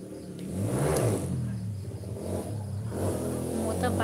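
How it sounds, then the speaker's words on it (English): A motorbike engine swells and passes close by at night in Thailand, rising to a rev near the start and then fading, followed by another quieter approach toward the end, with a faint background hum. "Motorbike make noise"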